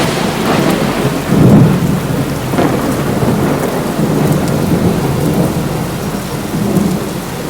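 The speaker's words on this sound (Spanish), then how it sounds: "Era una noche más lluviosa de lo normal. Había rayos, truenos y relámpagos." Steady heavy rain pours throughout, with low rumbles of thunder rolling in and out, loudest near the start.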